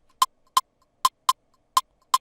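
FL Studio drum-kit percussion sample for an Afrobeat pattern, tail cut short: six crisp, dry clicky hits with no ring after each, spaced irregularly across two seconds, clear and alone.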